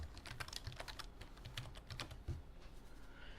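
Quick, light keystrokes patter on a computer keyboard as login credentials are entered, a short, soft, close run of typing with no talk.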